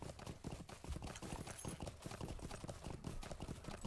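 War steed hooves clip-clopping in a video game, a steady rapid patter of hoofbeats running the whole time with no clear talk over them.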